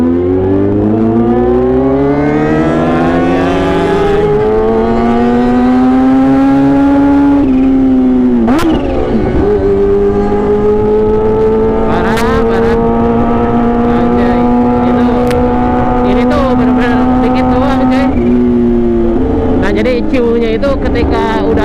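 A Kawasaki H2 supercharged motorcycle engine revs hard and loud up close, its whine climbing high and then holding at a sustained pitch before dropping off and rising again. Short bursts of talk come in between the revs.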